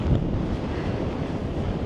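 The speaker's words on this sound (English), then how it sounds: "It's a bit windy right now today" Wind gusts steadily across a beach on the Maharees, Dingle Peninsula, County Kerry, Ireland, a loud, continuous broadband rush buffeting the microphone, with no talk over it.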